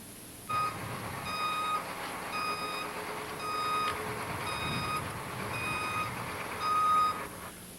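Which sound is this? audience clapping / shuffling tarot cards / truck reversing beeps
truck reversing beeps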